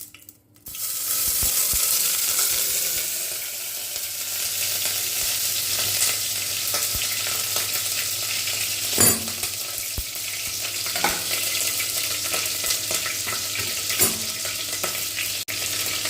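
Sesame oil and butter sizzle steadily in a pressure cooker for a mushroom biryani, a continuous close hiss with occasional spits and clinks.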